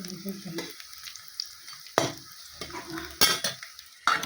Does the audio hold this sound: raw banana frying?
yes